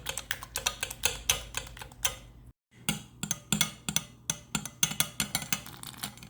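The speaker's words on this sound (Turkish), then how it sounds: "biraz çırpıyorum" A whisk or fork clicks rapidly and rhythmically against a bowl, beating eggs and sugar by hand in quick strokes with one brief pause, close and fairly loud.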